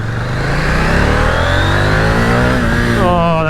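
A 2021 KTM 890 Duke R motorcycle accelerating hard, its engine note rising steadily and loud up close, with a rasping, climbing roar that shifts into a higher whine near the end.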